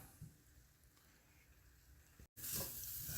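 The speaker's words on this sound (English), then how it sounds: "you want to keep stirring it around so it cooks evenly" Onions cook in a pan with a quiet, continuous sizzle and soft stirring scrapes. A short gap of silence is followed by a louder, hissing burst.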